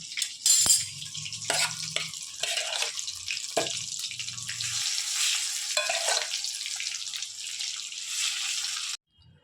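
Chicken pieces dropped into hot oil for chicken 65, bursts of loud sizzling and bubbling frying that swell and fade, with a few clinks and stirs and the sizzle cutting off abruptly near the end.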